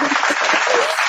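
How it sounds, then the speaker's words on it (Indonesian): A small group claps during an Indonesian university podcast, brief, close and steady hand clapping with no break. "kita tepuk tangan dulu"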